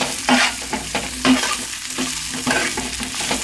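Brinjals fry with ginger garlic paste in a pan, a close hissing sizzle broken by a few scraping stirs of a spoon, with no voices.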